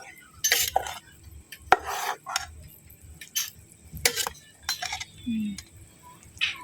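A thick curry paste mixture of chili, garlic and coconut milk is stirred in a pot. Several scraping, clinking strokes of a utensil against the metal come at an irregular pace, close and fairly crisp.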